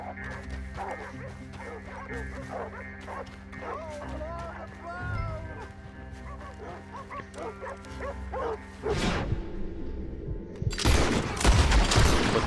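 Dogs barking amid gunfire in the Red Dead Redemption 2 video game, repeated yips and barks over a low rumbling background, then a burst of loud sharp gunshots at the end.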